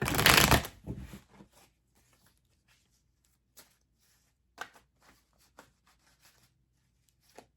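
A deck of tarot cards is shuffled in a loud, brisk burst at the start, then settles into sparse, quiet taps and slides as the cards are handled and laid out in near silence.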